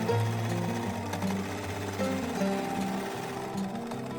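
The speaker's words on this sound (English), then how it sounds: "And now we are ready to sew it together." A sewing machine runs steadily while stitching a fabric face mask, a close, continuous mechanical hum with rapid rhythmic needle chatter and no talking.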